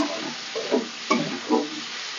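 Pieces of elephant foot yam frying in a pan with salt and turmeric give a soft sizzle, broken by three or four brief stirring scrapes, quiet and close.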